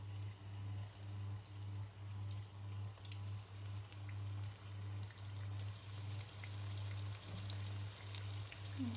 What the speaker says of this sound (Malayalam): ഇതിലേക്ക് നമുക്ക് ഓരോന്നായിട്ട് ഫ്രൈ ചെയ്തെടുക്കാം